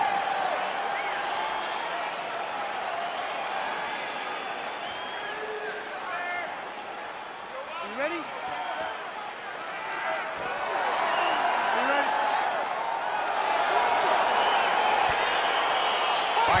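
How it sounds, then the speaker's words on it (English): Crowd noise from a UFC fight arena in the video game EA Sports UFC 4, a steady roar of cheering and whooping that swells toward the end, with speech over it. "crowd getting excited as this fight gets underway"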